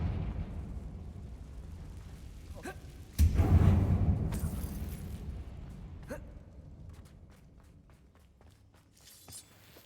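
A Confringo blasting spell detonates in a mine tunnel in Hogwarts Legacy, one loud booming burst that rumbles briefly and fades, followed by scattered footsteps and small knocks.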